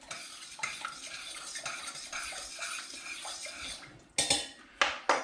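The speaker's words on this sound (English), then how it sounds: "Give that a little stir around" A spoon stirs rice and water around in a pot, giving a continuous scraping swirl, followed by a few sharp knocks of the spoon against the rim.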